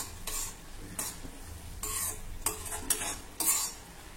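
Pineapple cooking with sugar in a pan, a soft continuous sizzle broken by repeated scraping and clinking strokes of a spoon stirring against the pan, close and fairly quiet.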